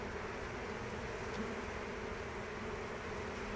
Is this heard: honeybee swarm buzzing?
yes